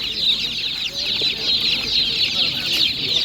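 Many chicks at an animal market cluck and chatter continuously, a dense flock close by with overlapping calls and no pauses.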